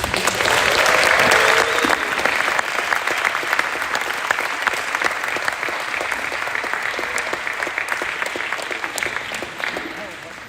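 A crowd claps steadily and loudly for several seconds at a championship medal presentation ceremony, the applause thinning slightly and fading toward the end.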